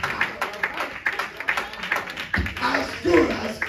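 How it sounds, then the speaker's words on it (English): A church congregation claps along during a Sunday morning service, rhythmic hand claps running under a preacher's loud, impassioned voice throughout. "Oh, clap your hands."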